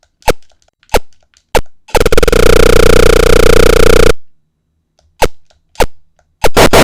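Shooting in an old Apple II video game: sharp, loud electronic clicks fired one at a time in an uneven rhythm, broken by a two-second burst of harsh buzzing tone, then more single shots.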